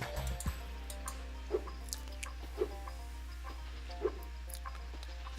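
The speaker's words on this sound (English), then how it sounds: "Freaky-looking chickens when they swallow missiles." Chickens cluck in short, sparse bursts over a steady low hum in the Spyro 2: Ripto's Rage video game, about three clear clucks spaced over several seconds.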